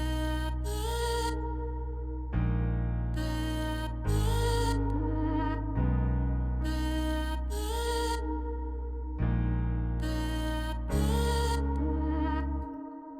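A dark, emotional synth melody moves through sustained chords over a simple bass line that follows the root notes, playing alone and fairly loud, with a repeating phrase of held notes and brighter accents.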